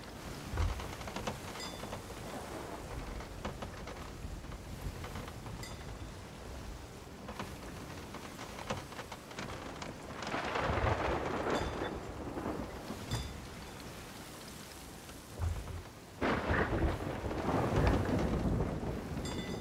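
Stormy sea weather in the pirate game Sea of Thieves: a steady roar of wind and rain with low rumbling surges that swell louder midway and near the end, no voices over it.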